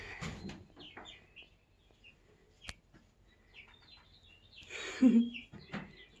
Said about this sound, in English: Let's go check out the chickens